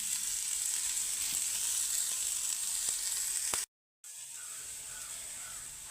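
Onions sautéing in a pan for egg curry, a steady close sizzle with faint stirring clicks, cut by a brief silent gap before the frying resumes.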